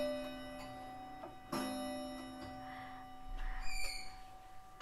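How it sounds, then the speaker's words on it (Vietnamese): A Citizen wall clock in brown walnut wood, a Japanese domestic model with a white dial, ticks steadily up close, and its bell strikes clearly around the middle, the ringing lingering under a faint background hum. "xoay cho các bác nghe tiếng chuông của 2 giờ, nửa tiếng đánh một lần mọi người nhé"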